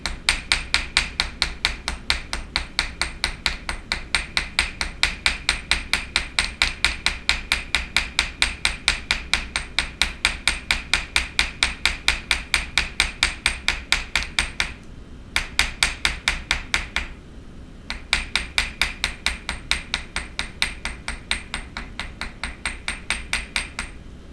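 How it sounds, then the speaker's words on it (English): Steady, rapid hammer blows on a folded copper sheet for fold-formed jewelry leaves, a close, bright metallic ringing that continues evenly with two brief pauses. "So now I'm going to hammer like wider"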